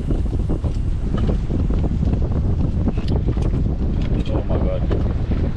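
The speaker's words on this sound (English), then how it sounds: "It's quite windy today." Strong wind buffets the microphone in constant roaring gusts while GT fishing, with rushing water and a faint voice partly buried beneath the noise.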